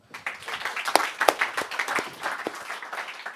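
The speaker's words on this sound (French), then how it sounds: "On peut l'applaudir" Audience applause at an inventors' awards event as a pitch speaker is called up, a moderate round of clapping with some sharper individual claps, tapering slightly toward the end.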